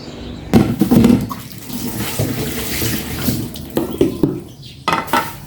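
Water runs from a tap into a sink for washing, a steady splashing stream that rises and dips as things are moved under it, loud and close with no talk.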